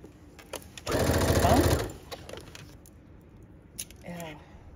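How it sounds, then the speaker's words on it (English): A sewing machine runs in one loud, steady burst for about a second while stitching the side seams of boys' shorts, then stops, with quieter handling noise and a brief voice afterward. "we're going to sew all the way down"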